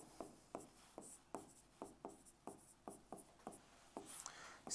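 Chalk or marker writing on a board, a series of quiet, evenly spaced scratchy strokes repeating about twice a second, close by, with no speech over them.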